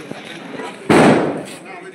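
A socket bomb firecracker goes off with a single sharp blast and a brief noisy tail at an outdoor election victory celebration, with a crowd and voices around it.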